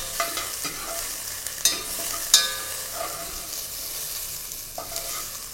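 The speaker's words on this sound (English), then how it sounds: "Give it a good stir." A spoon stirs tomato sauce with fresh garlic in a pot, a soft sizzle running steadily underneath with a few sharp scrapes and clicks against the metal, close and moderately quiet.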